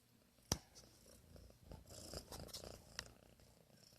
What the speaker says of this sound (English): That's my cat, Diddy.